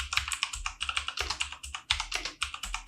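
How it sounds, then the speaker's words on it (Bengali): Rapid typing on a computer keyboard, entering a search term on a freelance marketplace site: a close, brisk run of crisp key clicks at an even, quick pace with short pauses between words, no voices. "এই যে ফাইবারের সার্চ বক্সটা আছে এখানে আমি লিখব ওয়ার্ডপ্রেস ওয়েব ডিজাইন"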